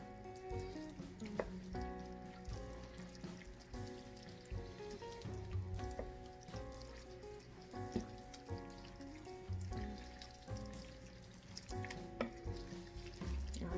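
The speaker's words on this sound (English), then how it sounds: "And then gently stir" Beaten eggs are gently stirred into a pot of hot pasta, a faint, soft scraping and sizzling that continues steadily under background music.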